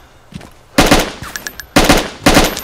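Bursts of DayZ gunfire, with loud, dense volleys of automatic fire at close range separated by brief lulls, the last two bursts sharp and heavy.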